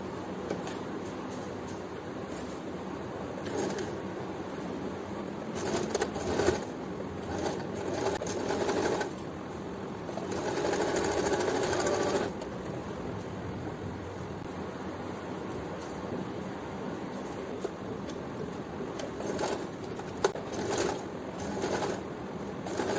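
A sewing machine runs in short bursts and longer stretches while stitching a fabric face mask, its whir rising and pausing against a faint steady background hiss.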